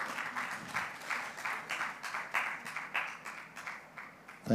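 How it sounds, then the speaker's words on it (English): Audience applause at a digital banking summit, a steady wash of many hands clapping that holds for several seconds with slight swells, fairly close, ending on a louder burst of sound. "A round of applause so she comes up."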